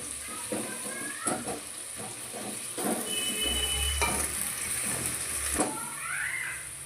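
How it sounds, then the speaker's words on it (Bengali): Onions frying over high heat in hot oil, giving a steady close sizzle and hiss with occasional scraping stirs. "তেল গরম হয়ে গেছে, আমরা প্রথমে দিয়ে নেবো পেঁয়াজ। পেঁয়াজটাকে হালকা লাল করে নেব"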